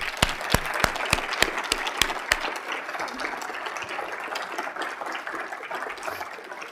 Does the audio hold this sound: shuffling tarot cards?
no